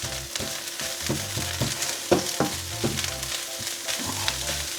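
Cumberland sausage fried rice is stir-fried in a hot pan, giving a steady sizzle broken by repeated scraping and clattering stirring strokes, close and alone with no talk.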